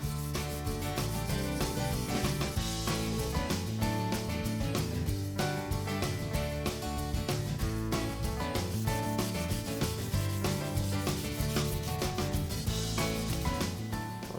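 Hand sanding with 220 grit sandpaper makes a continuous rapid rasping scrub in quick back-and-forth strokes, close and steady throughout with no talk.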